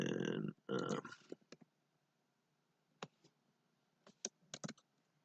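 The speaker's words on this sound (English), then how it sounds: "And I'm going to type in," Scattered clicks from typing code on a computer keyboard, a few sharp keystrokes in irregular bursts after a short stretch of louder sound at the start, otherwise quiet.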